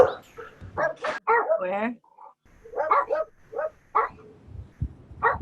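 A pet dog barks and yips in short bursts indoors, mixed in with and between someone's speech, fairly close and moderately loud.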